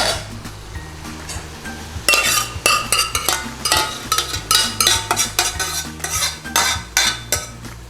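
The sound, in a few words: base gravy added and stirred into chicken dopiaza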